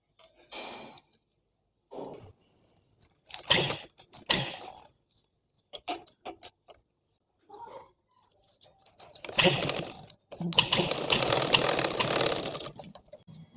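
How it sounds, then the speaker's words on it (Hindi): A sewing machine stitches a blouse sleeve in short separate runs, with a longer burst of steady whirring at the end and quiet pauses in between. "तो ये यहाँ पर सिलाई हो चुकी है।"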